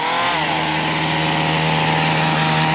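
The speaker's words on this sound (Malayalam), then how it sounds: "ചെയിൻ സോസും ഇതാ ഈ പുള്ളി അവിടെ സ്റ്റാർട്ട് ചെയ്യുന്നു" A chainsaw starts abruptly during outdoor clearing work in New Zealand, then runs at a loud, steady, buzzing idle close by for the rest of the moment, with no voices.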